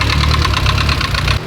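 A Mitsubishi Evo engine with a worn MIVEC runs loud and close, giving a rapid, steady metallic knocking tick over a rough mechanical hum for a brief stretch.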